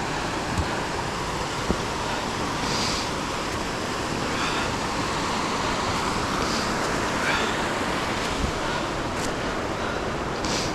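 River rushing over the falls at Ohiopyle in December, a broad steady roar of water that fills the background, continuous and fairly loud, with no talking.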